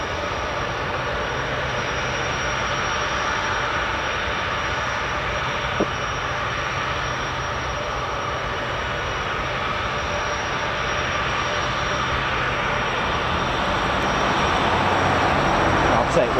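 A military aircraft of the 164th Airlift Wing, the Tennessee Air National Guard unit stationed at Memphis, gives a steady, broad engine roar that holds constant throughout and swells slightly louder near the end.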